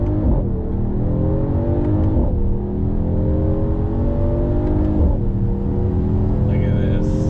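A 2021 Mercedes-AMG GT 43 sedan engine accelerates on throttle, climbing in pitch through repeated gear shifts heard from inside the cabin, with a voice talking over it.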